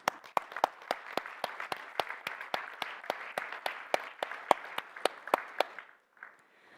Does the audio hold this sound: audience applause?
yes